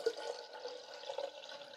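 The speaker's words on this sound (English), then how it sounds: "you're gonna take the pure vinegar and fill it up to the 6 mark on this carafe" Pure vinegar poured into the carafe of a Black+Decker CM1160B 12-cup programmable coffee maker, a steady faint liquid trickle and splash running for a couple of seconds with no talk.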